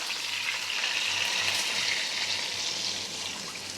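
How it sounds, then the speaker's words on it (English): Steady broadband rush of water pouring into a pot of chicken, continuous and close, over a low sizzling hiss with no talking. "now we add water"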